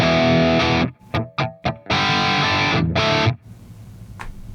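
Electric guitar through a Fractal JMP1 amp model with distortion plays thick sustained chords, broken by a few short choppy stabs, then a final held chord that cuts off into faint residual hum.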